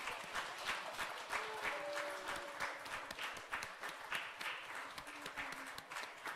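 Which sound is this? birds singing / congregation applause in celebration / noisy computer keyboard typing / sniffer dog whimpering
congregation applause in celebration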